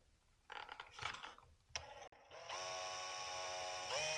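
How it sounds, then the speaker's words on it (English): Steady whirring of a small drill running a 1/8 inch bit through wood to pilot holes, starting after a few clicks and handling noises and holding an even, close, continuous whine to the end. "I'm just going to use a 1/8 inch drill bit and pilot those holes out."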